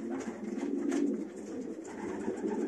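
Homing pigeons returned from a race flight coo together in a dense, murmuring flock chorus, steady and close, with no speech.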